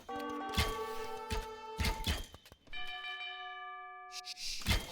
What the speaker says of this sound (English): Another town bell ringing.